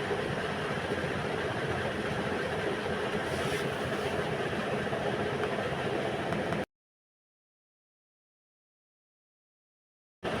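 A sewing machine runs continuously while stitching girls' capri trousers, giving a dense, rattling hum for several seconds before stopping abruptly into silence.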